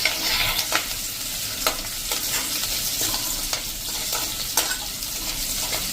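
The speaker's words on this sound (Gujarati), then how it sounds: "સરસ ક્રકલ કરી લેશું।" Green chillies and tempering spices crackle in mustard oil over a slow to medium flame for kadhi pakora, a continuous close sizzle broken by scattered sharp pops and stirring clinks, with no voices.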